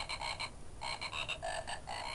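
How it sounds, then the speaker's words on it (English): A Christmas frog toy ribbits out the tune of Jingle Bells in a series of rhythmic electronic croaks, close and fairly loud, with no one talking. "Here we have the Christmas frog. He ribbits."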